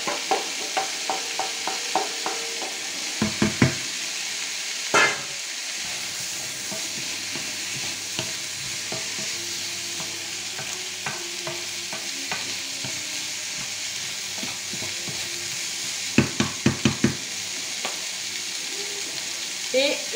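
Beef being stirred back into a pot for boeuf bourguignon sizzles steadily, with a few sharp spoon knocks and scrapes against the pot scattered over the continuous frying hiss.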